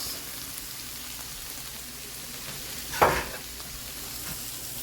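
Rice tipped into a hot pan for jambalaya, landing with a brief sharp hiss and scrape at the midpoint, set against a steady low frying sizzle and faint stirring noises throughout, with no talk.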